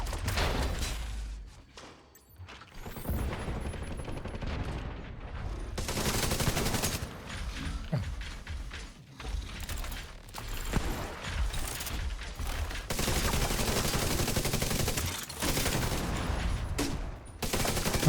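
Grenade launcher fired at point-blank range in a video game, heard as repeated heavy thumping blasts and bursts of gunfire over a constant loud din, with short gaps between volleys.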